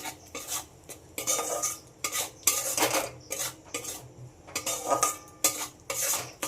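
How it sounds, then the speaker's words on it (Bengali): A spice mixture with salt and turmeric stir-fries in a pan for an egg and potato curry, with irregular scraping strokes of a metal spoon against the pan over a low sizzle; close and steady, no talk. "লবণ আর হলুদ দিয়ে আবার খুব ভালোভাবে কষিয়ে নিতে হবে।"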